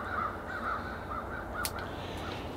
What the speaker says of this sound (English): Listen to those crows, they think it's spring too.